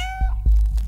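A short, clear cat meow from the game Stray, followed by a couple of soft low thumps.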